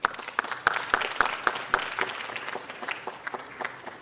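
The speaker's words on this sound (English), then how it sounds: "Mr. Cruz, big round of applause for Mr. Cruz." Audience applauding at a city council meeting, a steady round of clapping with a few sharp claps standing out near the front, fading gradually toward the end.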